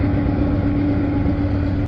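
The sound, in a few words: truck passing by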